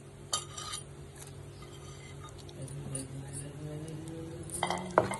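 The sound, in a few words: almonds and cashews being roasted and stirred in a pan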